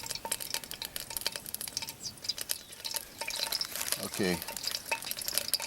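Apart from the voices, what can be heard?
oil heating in mess kit pan on camp stove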